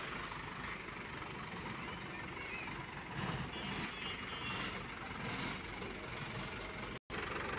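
A 2021 JAC 12-foot truck sits with its engine running, giving a steady, low, faint idle drone that stays even throughout, with one brief dropout near the end.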